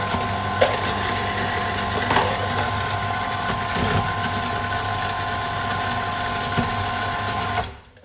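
A blender whirs continuously while making seaweed tartare, a steady droning motor hum with a gritty, ratcheting texture that runs for nearly eight seconds and then cuts off.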